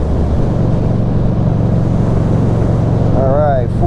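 A Harley-Davidson Street 500 motorcycle from 2021 cruises in fifth gear at about 40 mph and 2,700 RPM, giving a steady, loud engine drone mixed with wind rush, and a voice briefly enters near the end.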